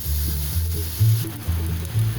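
Steady sizzling of garlic frying in hot oil, loud and close, with a few soft clinks of a utensil against the pan.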